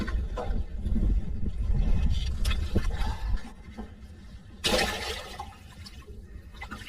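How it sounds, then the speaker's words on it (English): A boat anchor is hauled up from the water during a fishing trip, giving gurgling, sloshing water and dripping splashes close by, with a sudden burst of splashing partway through. "I might just pull up the anchor a bit."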